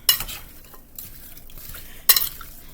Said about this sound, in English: we're going to give everything a nice toss in the butter